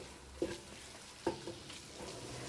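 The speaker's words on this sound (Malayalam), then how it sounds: "ഈ സവോളയും ഇതിനകത്തിട്ട് നന്നായിട്ടൊന്ന് മിക്സ് ചെയ്യുക." Two quick scrapes of a spoon stirring onions in a frying pan for chicken curry, over a faint, soft sizzle in a quiet kitchen.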